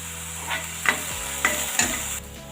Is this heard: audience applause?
no